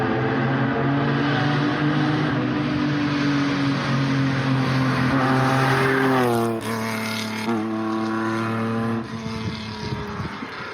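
Car exhaust revving hard with the cutout valve open so the gases bypass the mufflers, a loud, steady engine drone that climbs in pitch and then settles back down toward the end, with no talk over it.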